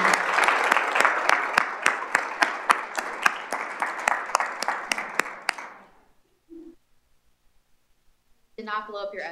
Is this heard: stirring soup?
no